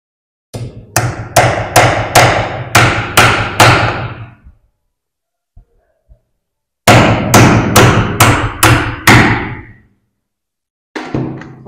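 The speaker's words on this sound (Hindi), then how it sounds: "यहाँ पर मैं एक कील लगा दूंगा" Hammer blows drive a nail into a wooden straightedge laid as a base for an AC pipe duct cover: two close, loud runs of about seven evenly spaced strikes each, separated by a pause, then a third run beginning.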